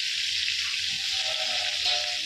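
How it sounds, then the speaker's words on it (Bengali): Onions with a pinch of salt frying in a pan, giving a steady, close hiss that holds evenly with no talk over it. "ওটা একটুখানি অল্প করে লবণ দিয়ে দিলাম, তাহলে পেঁয়াজটা তাড়াতাড়ি ভাজা হয়ে যাবে।"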